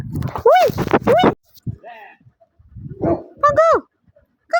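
Puppies bark in short yelping bursts and pant nearby, with whimpery tones mixed in and pauses between the outbursts.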